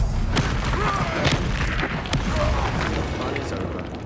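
A spell explosion in a fantasy video game set at Hogwarts bursts with deep booming thuds and rumbling blasts, loud and close, followed by fading debris rumble.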